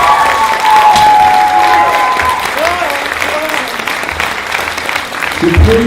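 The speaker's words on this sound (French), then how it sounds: "Je pense qu'on peut les applaudir maintenant très fort." Audience applause for theatre students after a student play, steady and full throughout, with a voice speaking faintly over the clapping near the start.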